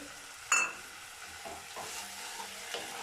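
Spice paste for a tangra fish curry with potato, aubergine and lentil dumplings is stirred and fried in a pan, a soft sizzle broken by a sharp utensil clink and a few quiet stirring scrapes.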